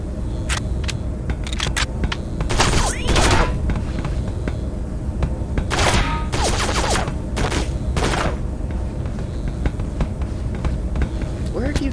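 Gunfire in the 2005 video game Area 51 crackles in scattered bursts of sharp shots over a rumbling background, with speech mixed in around the shooting.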